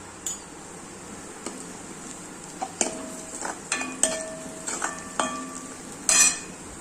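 Onions sautéing in a pan for spicy matki rassa, a sprouted moth bean curry, with a quiet sizzle beneath intermittent scraping and clinking of a spoon stirring against the metal pan.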